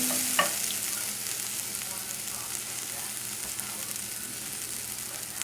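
Onions and carrots sautéing in a pan, a steady low hiss of frying with a light clack of a spoon near the start, heard alone.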